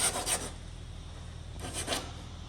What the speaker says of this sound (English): You have to get this minuscule file here.